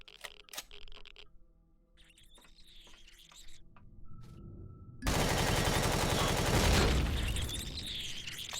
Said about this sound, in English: The turrets are having bad aim right now.